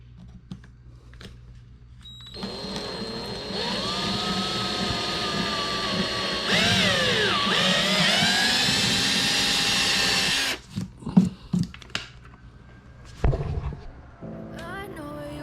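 A power drill slowly bores a hole for a Viking saddlebags installation, a loud, steady whine holding for about eight seconds with its pitch dipping and rising under load, then cutting out into a few clattering knocks and handling noises.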